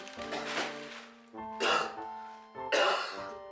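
Three harsh, persistent smoker's coughing bursts, close and loud, separated by short pauses, with a musical drone underneath.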